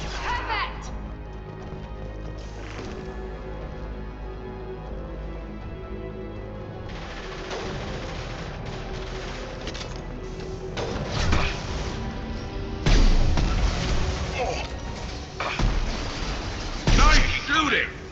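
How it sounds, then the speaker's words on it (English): Sci-fi weapon fire in a modded Mass Effect 2 battle, starting as a low steady hum before bursts of sharp shots and heavy impacts build up, loudest near the end, mixed with game sounds and occasional speech. "Nice shooting!"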